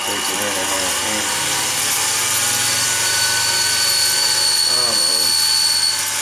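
Metal lathe turning a tool holder from stock, a steady continuous machining whine with a constant tonal hum throughout, with brief speech over it.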